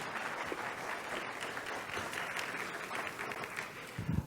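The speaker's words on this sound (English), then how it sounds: "Y'all clap for the young lady." An audience applauding a young lady, a steady wash of many hands clapping throughout, fairly faint and distant, with a brief murmur of voices near the end.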